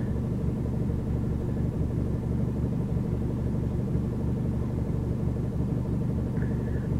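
A car engine hums with a steady low rumble while driving on the road, constant and close with no talking over it.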